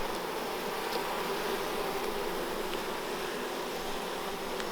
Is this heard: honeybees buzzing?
yes